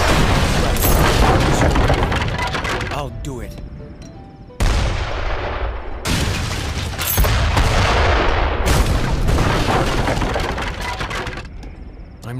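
Dense musket volleys and booming artillery fire in a large Age of Empires 3 battle, loud and continuous with overlapping shots, crashes and splintering impacts, under occasional unit voice lines.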